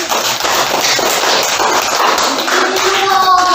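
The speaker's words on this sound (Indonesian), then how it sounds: "Ya, tepuk tangan." A classroom of students claps loudly and continuously after group presentations, a close, busy patter of hands, with a few voices breaking in near the end.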